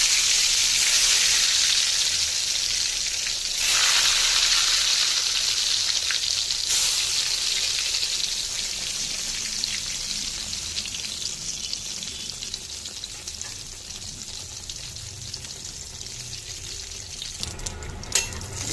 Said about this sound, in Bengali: আর বেগুনগুলো ভালো করে ভেজে নেবো।